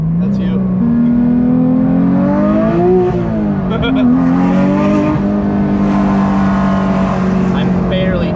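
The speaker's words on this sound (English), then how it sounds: "the downshifts are crispy" A rebuilt, previously crashed Porsche GT3 RS engine revs up and falls back through crisp downshifts, the loud tone climbing and dipping, with people talking over it from inside the car.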